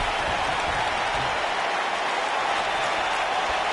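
A crowd in a WWE wrestling video game roars with a broad, steady cheer like applause that fills the whole clip evenly. No voices stand out.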